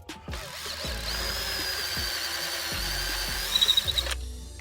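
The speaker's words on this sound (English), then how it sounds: "so you just drill them out so this comes away from the rest of it" A power drill bores out aluminium rivets on a Ford Fiesta part, a steady close whine broken by several sharp knocks as each rivet gives way, with a brief squealing flutter near the end before it stops.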